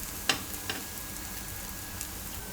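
Moong dal cheela cooking on its second side in oil on a pan, a faint, steady sizzle with a couple of brief clicks or taps near the start and one more later.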